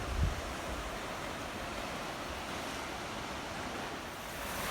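Sea waves wash steadily onto the rocky Cornish coast at Tintagel on a hot day, a continuous broad roar with a brief thump near the start and no voices.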